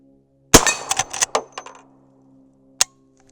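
A Henry Big Boy lever-action in .357 Magnum fires powder-coated 158gr SWC rounds at a close steel plate, a sharp report followed by a quick burst of metallic ringing, then one more distant clank after a short pause.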